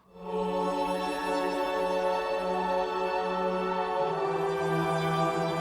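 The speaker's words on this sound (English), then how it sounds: "I found a choir and this other ambient landscape that sounds a bit like this" Ambient landscape sample layered with a choir, a dense sustained wash of voices and drones that swells in within half a second and holds steady, with a slight shift in the low tone near the end.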